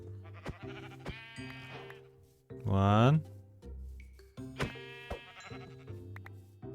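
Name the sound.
sheep bleating in Minecraft video game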